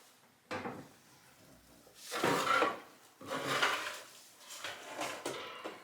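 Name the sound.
oven opened to take out roasted tomatoes and vegetables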